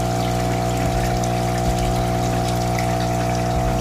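A homemade aerated compost tea brewer, built from spare household parts and a paint strainer, runs steadily with a constant pump hum under busy bubbling and trickling water, close and continuous.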